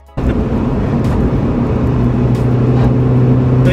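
A Toyota Starlet with a 2E engine and a carburettor accelerates on the road, its loud, steady engine drone kicking in abruptly and holding a dense, rough hum throughout.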